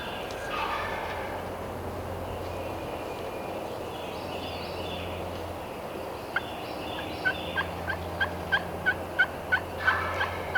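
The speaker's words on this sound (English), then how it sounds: "He's gobbled again right there." A wild turkey gobbling on a wooded Tennessee ridge during a spring public-land hunt, a distant gobble early on, then a run of repeated sharp gobbles and calls growing clearer toward the end, while a person speaks quietly.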